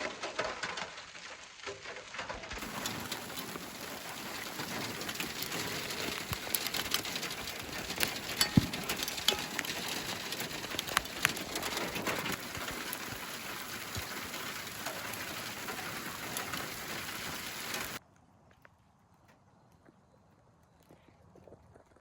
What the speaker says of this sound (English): it's just really heavy drops of rain